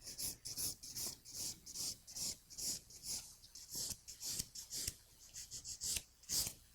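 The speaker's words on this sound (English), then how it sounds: "You can hear that when I'm filing that long stroke. That's how your filing should sound." A file works over an acrylic sculptured fingernail in long, even strokes, making a rhythmic, dry rasping scrape repeated about a dozen times at close range with no talking.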